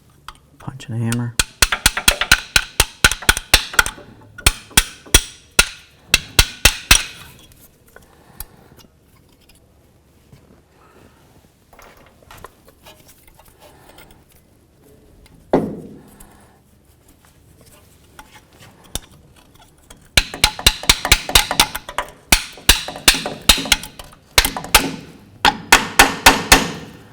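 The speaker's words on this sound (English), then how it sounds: "Punch and a hammer." A hammer striking a punch while removing a clip from a front brake caliper on a 2003–2009 Toyota 4Runner: rapid bursts of sharp metallic taps, a quieter stretch with someone talking, then another long run of strikes.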